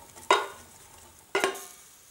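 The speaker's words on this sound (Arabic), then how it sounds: "الزيت بدا يسخن، توا باش نحط الفلفل." Green peppers dropped into gently heated oil for a Tunisian ojja, giving two sharp sizzling bursts about a second apart that flare up loudly and then fade, with no talking.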